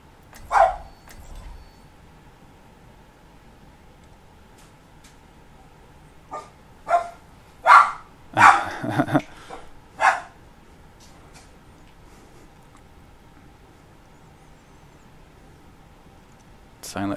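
A pet dog barks in short separate bursts at moderate distance, a single yip early and then a cluster of four or five quick barks, with soft ambient hum between.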